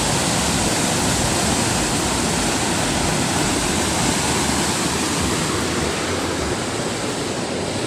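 A fast-flowing mountain stream after light rain on the Kareri Lake trek in the Himalayan foothills, a loud, dense, unbroken rush of water close by, with no talking.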